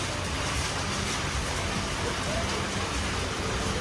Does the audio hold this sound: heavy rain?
yes